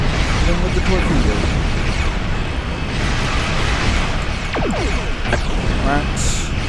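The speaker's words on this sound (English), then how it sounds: "Hit him with the torpedo." A torpedo striking an enemy ship in the Star Trek Online space game, heard as a dense, loud rumbling blast and crashing roar that runs steadily throughout, with brief synthetic zaps near the end.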